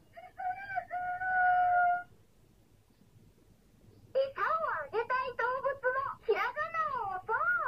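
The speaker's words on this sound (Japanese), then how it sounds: "に、ニワトリ。" A toy hiragana learning machine with a zoo-animal theme plays an electronic chicken crowing sound, a short cock-a-doodle-doo followed after a pause by a longer warbling crow, loud and close.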